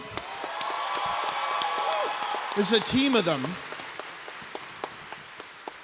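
A room full of people at a PAX Prime main stage panel applauds steadily, a dense patter of claps, while a voice speaks briefly over it near the middle.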